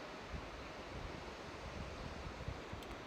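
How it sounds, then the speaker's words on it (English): Waterfalls beside a mountain trail in Oregon, a soft steady rushing wash of falling water heard from a distance, faint and even with no voices. "Some waterfalls going on."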